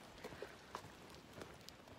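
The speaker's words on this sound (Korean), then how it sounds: "비가 오네요." Rain falls outdoors on a walk home from work, a soft, faint patter with scattered drops and light taps over a quiet, steady hiss.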